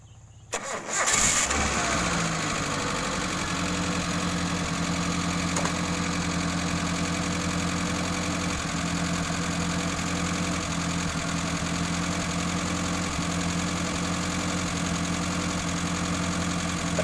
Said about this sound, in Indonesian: Sekarang saya akan nyalakan mesinnya.